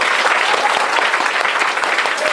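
A school audience at a celebration of World Wildlife Day claps hard, dense and close, a continuous wash of applause with no break.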